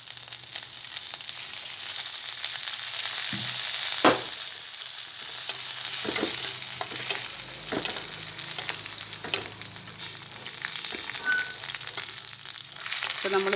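Green chili, garlic, ginger, curry leaves and fenugreek seeds sauté in a pan for a Kerala chow chow pickle, giving a continuous frying hiss broken by periodic spoon stirring and scraping.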